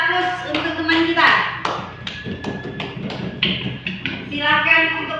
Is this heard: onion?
no